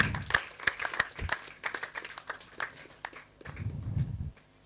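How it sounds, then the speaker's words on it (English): Scattered clapping from a small audience welcoming a speaker at a hangout event, a handful of uneven, sharp claps in loose rhythm with low murmuring sounds in between. "They'll clap for you."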